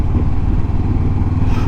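A Honda CB500X motorcycle being ridden out of Bridlington on a Sunday, its engine droning steadily and loudly up close with continuous low rumble and road noise throughout.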